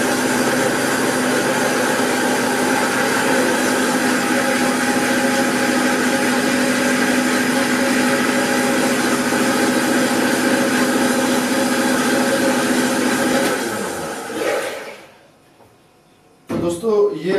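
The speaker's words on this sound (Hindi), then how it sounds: "तो दोस्तों इसको आपने अच्छी तरह ब्लेंड करना है" A kitchen blender whirs steadily and loudly while mixing a homemade protein shake, then cuts off near the end, leaving a brief quiet before a short burst of noise.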